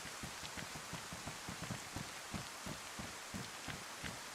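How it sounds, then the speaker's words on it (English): Heavy rain falls in the video game DayZ as a dense, steady hiss of downpour, with soft rhythmic low thumps beneath it and no talking. "It's like been like torrential downpouring this whole time."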